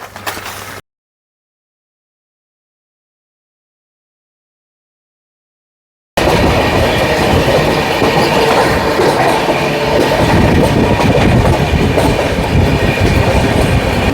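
Sealdah–Jalpaiguri Road Humsafar Express running, after a short opening burst and several seconds of silence: loud, steady rumble and rattle of wheels on track, with a rhythmic clickety-clack close by.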